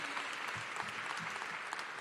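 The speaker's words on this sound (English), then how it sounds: "Come on, clap your hands." Audience in a church service clapping hands continuously, a dense, fairly distant patter with no break.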